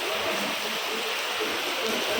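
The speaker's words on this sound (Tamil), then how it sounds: "ஃபுல்லாக ஹெவி ரெயினுங்க" A continuous rushing wash of heavy rain at the Tiruchendur temple, bright and even like running water, holding steady throughout with no talking.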